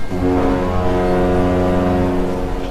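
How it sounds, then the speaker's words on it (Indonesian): A long, steady, low departure horn blast from a 1928 Dutch East Indies hajj pilgrim ship sounds continuously, loud and sustained with rich harmonic tones, no other sounds around it. "Peluit panjang kapal terdengar tanda keberangkatan sudah dekat."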